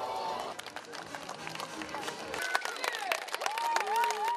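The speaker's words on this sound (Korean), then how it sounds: "아이들의 송판 격파 시범이 성공할 때마다 객석에서는 탄성과 박수가 터져 나옵니다." Applause and cheers from an audience after children's wooden-board-breaking demonstration at a Jeju community association event in Japan, building through the clip with voices and musical tones mixed in.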